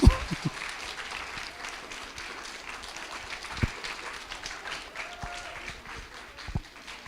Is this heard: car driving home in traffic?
no